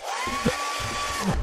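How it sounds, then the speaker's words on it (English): Hairdryer item in the Lethal Company video game, a steady airy whir with a faint whine held throughout, under low thumps and scattered sounds. "a hairdryer."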